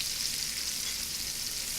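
Onions frying in browned fat in a pot roast pan, a steady, dense sizzle heard close and alone with no talking.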